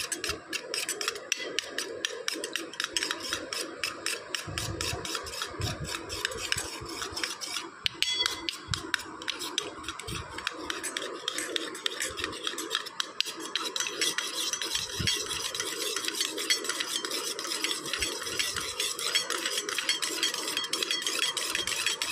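Curd (yogurt) is beaten in a bowl, giving a continuous rapid scraping and tapping rhythm that stays close and fairly even throughout, with occasional louder knocks against the bowl and no talking.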